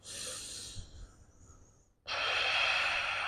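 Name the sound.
slow breathing during yoga pose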